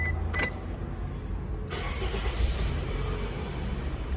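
A Toyota Alphard engine cranks briefly and catches, then settles into a steady, loud idle as it warms up.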